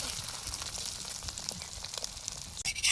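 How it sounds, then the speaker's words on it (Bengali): Roti sizzles in a hot pan while being cooked for egg rolls, a steady close-up hiss and crackle that runs the whole time at low volume, with a few soft clatters near the end. "এরপরে রুটিটাকে আমরা এপিট এপিট করে সেঁকে নিচ্ছি।"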